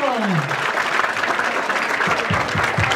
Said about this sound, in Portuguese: palmas pra essa batalha, família